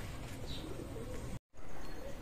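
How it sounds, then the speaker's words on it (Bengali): Teddy pigeons cooing at close range, soft low coos amid a busy background of bird calls, with a brief dropout partway through. "চমৎকার স্ট্যান্ডিং গেট আপের কবুতর, অসাধারণ কবুতর।"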